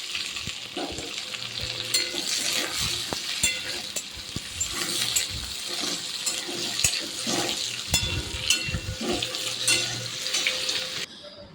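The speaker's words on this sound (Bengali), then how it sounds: "এখন সবজিটা ঢেলে দেবো এই দেখো ভেজে রেখেছিলাম আলু মুখি আর বেগুন সবজিটা দিয়ে দিয়ে দেবো গরম জল" Potato, taro and eggplant, already fried, sizzle steadily in a hot pan alongside clattering stirring and utensil knocks, with no voices.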